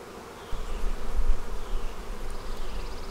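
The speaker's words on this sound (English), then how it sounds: "Man, there's just so many bees." Dense buzzing from a great many honey bees fills a bee barn, swelling louder after a brief quieter start and holding as a thick, close drone.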